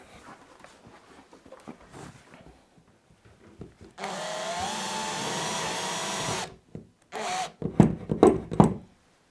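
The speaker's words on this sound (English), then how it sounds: "So get these drilled" A power drill bores pilot holes into a ceiling for downlights, running in one sustained whine for about two seconds, then a shorter burst, amid scattered knocks and handling noises.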